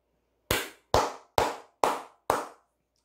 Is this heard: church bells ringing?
no